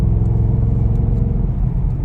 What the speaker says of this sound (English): And that exhaust sounds pretty good.